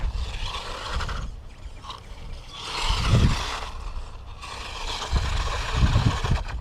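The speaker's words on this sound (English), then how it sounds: "Do a little crawl action. Drop it down in the low gear." HBX 12889 Thruster RC truck crawling in low gear, a steady whirring motor whine that rises and falls with strain, with scraping and rumbling from the tires over rough ground.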